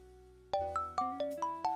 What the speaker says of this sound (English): My ringtone nearly makes me jump out of my skin.